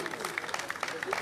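A short burst of clapping rises from a crowd welcoming guest players at an outdoor volleyball tournament, dense and fairly faint, with a voice talking over it.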